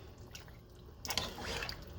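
Water is poured into a pot of Jamaican-style curry goat on the stove, a soft low hiss that swells into a brief splashy gush about halfway through.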